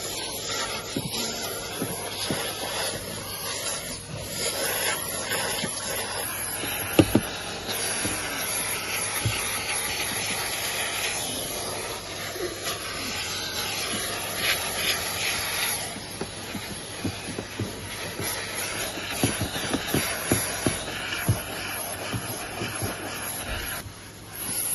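Henry vacuum cleaner running steadily inside a Toyota Yaris Cross, a continuous airy hiss of suction with occasional clicks and knocks as the nozzle moves over interior surfaces, close and loud throughout.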